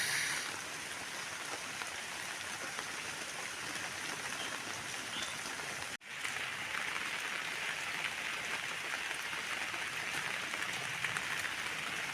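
Steady monsoon rain pattering on surfaces on a hillside, a constant even hiss with a brief dip partway through, no voices.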